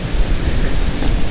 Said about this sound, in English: Windy as hell out here today.